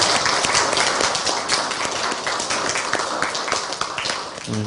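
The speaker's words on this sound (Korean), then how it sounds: "우리 좋은 찬양해 주신 우리 성가대, 우리 관현악, 우리 친구들에게 여러분 격려의 박수 하겠습니다." Congregation at a university chapel service applauds the choir and orchestra, a continuous dense round of clapping with individual sharp claps standing out, sustained and fairly loud.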